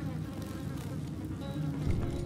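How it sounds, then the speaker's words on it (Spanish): Bloodflies in the video game Dishonored give off a steady, droning insect buzz that swarms densely and continuously throughout, with no talking over it. "aquí aparte de moscas de la sangre"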